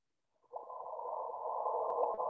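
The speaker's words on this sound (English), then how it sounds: "This is the sound of two black holes colliding and merging." The sonified gravitational-wave signal from two black holes colliding and merging is a smooth, pure electronic chirp tone that swells in and holds for about two seconds, quiet and alone.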